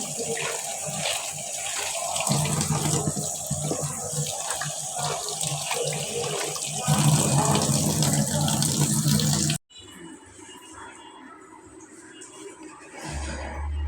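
Fresh small fish, puti and nola, are washed one at a time under a running kitchen tap, with loud steady gushing water that drops to a quieter trickle near the end.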